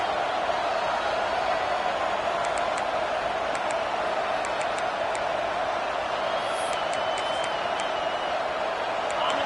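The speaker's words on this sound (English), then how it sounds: "This crowd ready to make its presence known." A football stadium crowd at a Florida Gators game roars in a steady, continuous wall of cheering, with scattered whistles and whoops rising above the dense, unbroken din.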